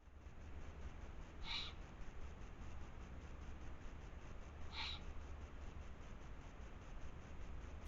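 A Eurasian eagle-owl calling at night near Joigny, giving two short, faint hoots spaced a few seconds apart over a steady background hiss.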